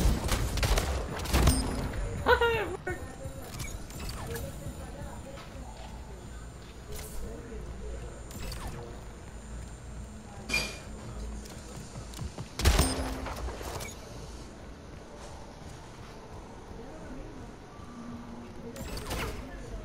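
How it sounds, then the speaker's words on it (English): Sniper and shotgun shots ring out in the video game Splitgate, a few loud sharp reports spaced across a busy match with softer mechanical clicks between them. "I really like using the sniper to shotgun change like from close range"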